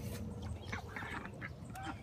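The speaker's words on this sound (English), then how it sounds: "Ducks are getting out of the tub." Ducks in a backyard garden, climbing out of a tub, let out a few faint quacks over soft steady background noise, with short calls scattered across the moment.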